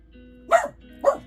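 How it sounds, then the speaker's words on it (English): A pet dog indoors barks to be let out: two short, sharp barks about half a second apart, close and fairly loud over a quiet room. "my doggy wants out"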